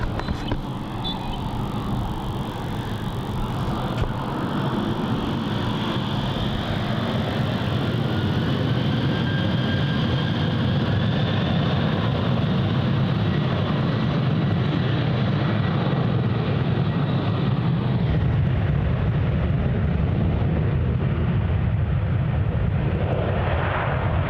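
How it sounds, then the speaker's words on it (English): Virgin flight 91 jet airliner departing Melbourne Airport for Denpasar, a loud continuous engine roar with a rising whine that holds steady, then fades slightly as the high hiss drops away, no voices. "This is Virgin Flight 91 heading up to Denpasar."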